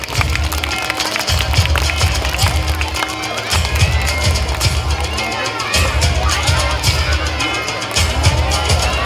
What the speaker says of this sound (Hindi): दोनों इंजीनियर से जोरदार तालियां हो जाए।